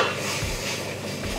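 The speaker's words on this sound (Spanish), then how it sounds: "Seguimos revolviendo." A spoon steadily scrapes and stirs Chilean valdiviano stew in a pot, a continuous soft rubbing with a faint sizzle underneath.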